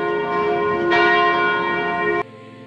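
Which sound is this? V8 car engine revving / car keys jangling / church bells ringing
church bells ringing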